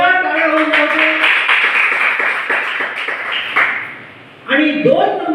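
Applause for the winning team at a primary school's drug-awareness quiz contest: a short burst of hand clapping between stretches of someone speaking over a microphone.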